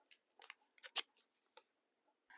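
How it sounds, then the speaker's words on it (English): Junk mail paper is torn into odds and ends by hand, close up and fairly quiet, in several short crisp rips and crackles with brief gaps, and no talking. "I'm just tearing odds and ends of paper."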